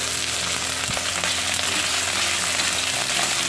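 Onion and potato frying together in a pan for a nutri nugget sabzi, a loud, dense, continuous sizzle with faint stirring scrapes, close and unbroken, with no talking.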